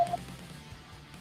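One short phone dialing beep sounds at the start of an incoming call, followed by faint low background hum.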